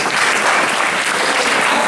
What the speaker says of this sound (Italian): e l'assessore Scialfa, che salutiamo anch'ella con un altro applauso